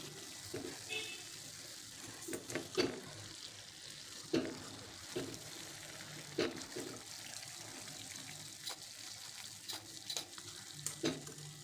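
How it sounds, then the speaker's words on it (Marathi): Jowar flour and jaggery kapanya fry in hot oil with a steady soft sizzle, broken by scattered scraping and clinking from a slotted spoon moving them around, quiet and close throughout. "तर अशाच प्रकारे सर्व तळून घ्यायचे आहेत आपल्याला."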